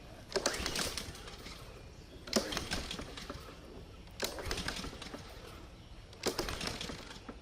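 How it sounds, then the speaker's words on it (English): The starter cord of an old small engine that has sat unused for a year or more is pulled: four rough, whirring pull strokes about two seconds apart, close and moderately loud, with no firing between them. "Hold the handle,"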